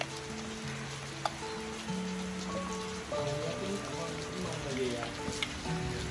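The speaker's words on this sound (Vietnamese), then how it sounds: "Và trời vẫn còn mưa." Rain falls steadily as a soft, continuous patter across the whole stretch in the mountain highlands, with harmonic tones and faint voices or other sounds layered over it.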